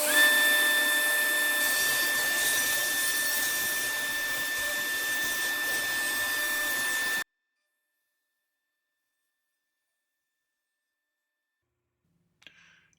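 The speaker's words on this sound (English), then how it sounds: "A drum sander on my drill press does a great job sanding the edges, especially on curves." A drum sander fitted to a drill press grinds along walnut table edges with a steady, loud abrasive whir and motor hum for several seconds, then cuts off abruptly into silence, leaving only a faint knock near the end.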